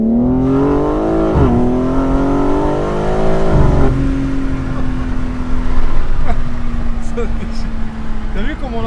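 BMW M4 Competition engine revving and droning with a resonant tone while driving on the road, a steady low hum that rises briefly, heard from inside the car as people talk over it.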